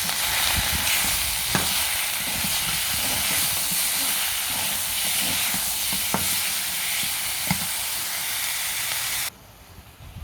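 Chicken pieces fry in a pan with already fried onions, giving a loud, continuous sizzle and steam hiss with a few sharp clinks of stirring, before the sizzle suddenly drops away near the end.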